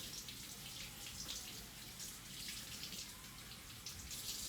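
Tap water running steadily into a sink while fresh oysters are washed of sand and dirt, a soft continuous splashing hiss with no talk.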